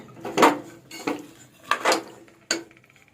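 A spoon stirs and scrapes against a metal vessel while ingredients for a kurma are mixed together, in four distinct bursts of clinking and scraping separated by short pauses, close and fairly loud, with no talking.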